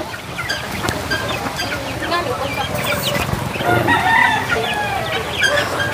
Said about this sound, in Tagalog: Daming manok ang papa niya, oh.